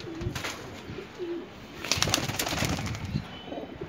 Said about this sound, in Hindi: बेदाग कबूतर है, कहीं भी दाग नहीं है